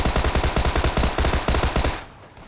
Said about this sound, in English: First, we're going to use the rest of these bullets